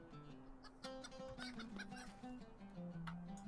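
In the Lord of the Rings Online video game, a chicken gives a quick run of clucks and squawks, sharp and repeated in irregular bursts, fairly faint and with no voices over it.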